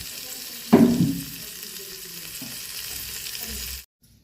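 Water is poured into mung dal and mixed vegetables frying in a pot, setting off a loud burst of sizzle that quickly fades into a steady, softer bubbling hiss before cutting off.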